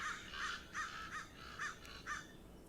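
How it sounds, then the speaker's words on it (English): Crows cawing in a Minecraft modpack world, six evenly spaced harsh caws in a steady rhythm, moderately loud over a quiet hiss. "Loud crows."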